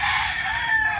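A young rooster crows once, loud and close, its strained call held briefly before tapering off, with no talk over it.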